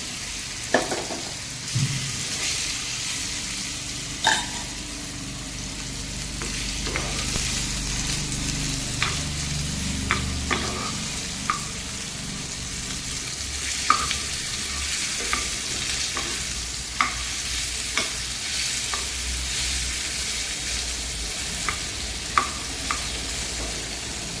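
Boneless chicken pieces for chicken 65 deep frying in oil with curry leaves, a steady loud sizzle and bubbling throughout, broken by occasional sharp clicks and stirs.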